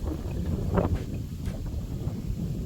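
Strong wind buffeting the microphone outdoors in a Gujarati village, a constant low roar with gusty surges and no talking.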